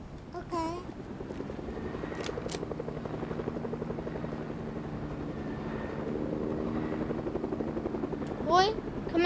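A helicopter in the video game Fortnite flies with a continuous rotor drone at moderate level, with a few short bursts of other game sounds over it.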